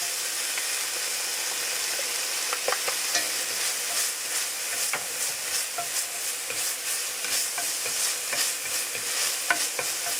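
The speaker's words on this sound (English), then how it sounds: "I'm gonna let this saute for about a minute or two, just for the garlic and onion to release the fragrance" Garlic and onion sautéing in a pan for baked ziti pasta, a steady close sizzle with bursts of stirring scrapes and crackles, no talking.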